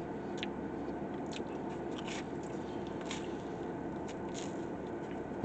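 Someone chewing and eating brick oven pizza, close and soft, steady muffled mouth sounds with faint crunches of crust, no speech.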